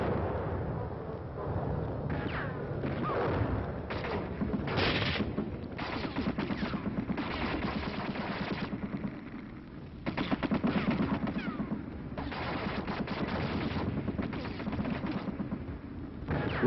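Battlefield artillery and machine gun fire during an advancing infantry drive, continuous booms and rattling bursts layered over one another, loud and sustained throughout with a slightly muffled, old-recording quality.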